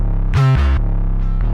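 A deep 808 bass note slides in pitch, layered with a second 808 an octave up, thickened by chorus, with a delayed echo repeating the tone afterward.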